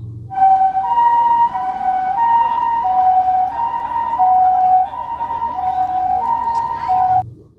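A toy ambulance's two-tone electronic siren wails continuously, alternating pitch in a steady pattern, close and loud, with a rough toy-like tone.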